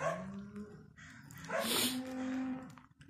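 A dog whines and grumbles in drawn-out, complaining tones, with a few short yips, fairly close by.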